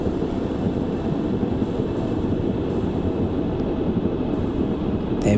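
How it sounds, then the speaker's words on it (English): A diesel railcar in Diesel Railcar Simulator braking and slowing, a steady loud rumble and rolling drone that holds evenly throughout with no voices. "And the train is slowing down, great."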